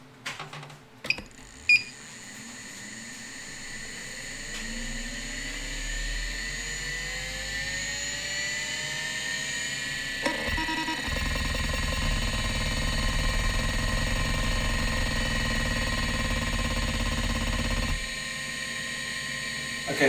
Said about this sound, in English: that's the power on sound of the Seagate ST277